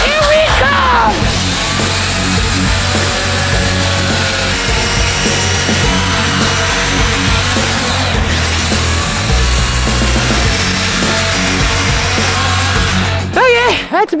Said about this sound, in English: Is that a chainsaw? You bet your bottom it is.